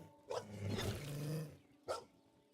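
A dog barks in the Monsters & Memories video game, two sharp barks bracketing a longer growling, roaring snarl, moderately loud with no talk.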